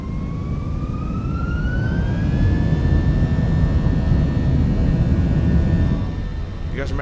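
Airbus A321 with IAE engines in Microsoft Flight Simulator 2024, engines spooling up with a loud, steady roar and a whine that rises in pitch and then holds, with a brief clatter near the end.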